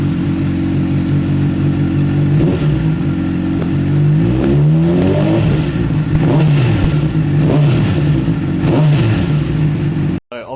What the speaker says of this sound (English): So obviously the engine's pretty loud.